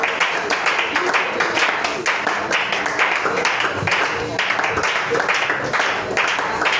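A worship congregation claps and cheers in a steady, dense wash of applause that runs throughout, with voices mixed into the sound.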